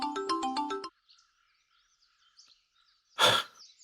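A phone's bright melodic ringtone plays loudly for under a second in a romantic drama scene, then cuts off into near-silence before a short, breathy burst like a sneeze.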